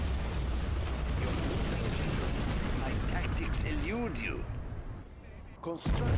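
Nuclear missile and artillery strike blasts in a strategy video game, a dense rumbling barrage of booms and mechanical clatter that thins out near the end, with a voice speaking over it.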